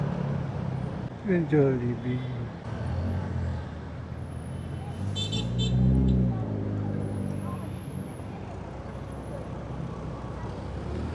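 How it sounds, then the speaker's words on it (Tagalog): Street traffic with cars, trucks and buses, an engine drone and a hiss of air brakes mid-way, heard from inside a vehicle beneath people talking. "Traffic dito."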